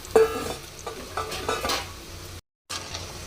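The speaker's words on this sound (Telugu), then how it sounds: "ఆయిల్ వేడైనాక ఇలా వేసుకుందాం" Spinach bhajji in gram flour batter frying in hot oil, a close, steady sizzle with soft utensil clinks, broken by a brief dropout.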